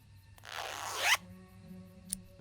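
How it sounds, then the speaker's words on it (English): A stuck zipper on a cushion in the Tesla Effect video game is pulled open with pliers in one long, close, rising rasp, followed by a soft click and a brief faint tick. "The zipper on this cushion's stuck. I'll need something to help me open it."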